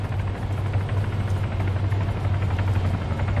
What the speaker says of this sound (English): Apparently there is a friendly helicopter coming in to pick people up.